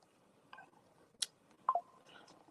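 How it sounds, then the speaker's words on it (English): A phone being switched off gives a few short, quiet electronic beeps and taps spaced over a couple of seconds, close by in a quiet room. "Let me turn my phone off"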